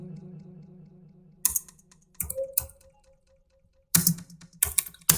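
Computer keyboard typing in short clattering bursts of keystrokes, separated by quiet pauses, over a faint low hum at the start.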